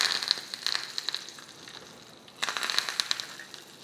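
Cumin, a pinch of asafoetida and curry leaves hit hot oil for a tempering with the gas off, giving close crackling, popping sizzle bursts that ease briefly then flare up again, alone without speech.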